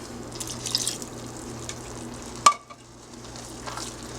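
Rice and vegetables are stirred in a cooking pot with extra veggie broth or water, giving a soft sizzling, bubbling bed and one sharp knock of the spoon against the pot.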